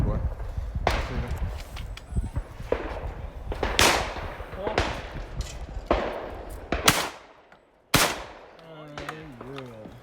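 Shotgun blasts at a clay shooting competition, several sharp, loud reports spaced a second or two apart, heard alongside people talking nearby outdoors.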